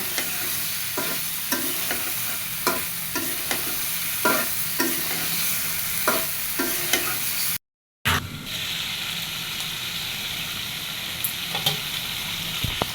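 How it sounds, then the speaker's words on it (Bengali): Spices cooked down with potato, pointed gourd and soya chunks, scraped and stirred in a pan: steady sizzle with repeated spatula scrapes in a regular rhythm, a brief gap, then continued frying hiss with occasional clinks, close and fairly loud. "এবার এইগুলো দিয়ে খুব ভালো করে কষায় নিব।"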